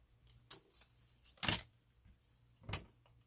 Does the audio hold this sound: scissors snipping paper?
yes